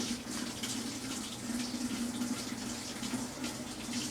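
A continuous close stream of water runs into an outdoor washing machine fed by a garden hose, an even rushing sound with a faint underlying hum throughout.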